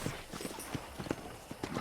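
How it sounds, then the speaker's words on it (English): Rhythmic clip-clop of horse hooves in the Red Dead Redemption video game, a steady close walking gait with a faint whinny. "let's see if you can still ride a horse"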